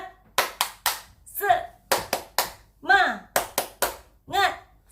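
Children do a rhythmic spirit clap in a group, with crisp clusters of hand claps alternating with short chanted shouts, loud and close, repeating in a steady pattern.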